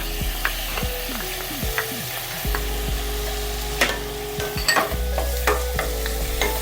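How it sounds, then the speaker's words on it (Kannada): Tomato puree frying over a low flame in a pan for a creamy paneer and pea curry, a loud close sizzle under repeated scraping and clanking stirs, alone without voices. "ಲೋ ಫ್ಲೇಮಲ್ಲಿ ಇಟ್ಕೊಂಡು ಚೆನ್ನಾಗಿ ಫ್ರೈ ಮಾಡ್ಕೊಳ್ಳೋಣ."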